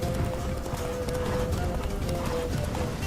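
Horse hooves clip-clop at a run in The Witcher 3, a loud, steady rhythmic beat of repeated hoof strikes close by, with a faint steady tone running underneath.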